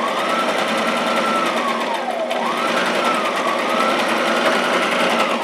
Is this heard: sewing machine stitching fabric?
yes